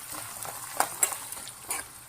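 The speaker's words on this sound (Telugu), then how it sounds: "కొన్ని ఆకుమిర్చి నిలువుగా పీల్చుకొని వేస్తున్నామండి పోపులో" Slit green chillies sizzle in hot oil for tempering in an Andhra potato curry, a soft continuous frying hiss punctuated by several sharp spits and pops, fairly faint and close, with no talk.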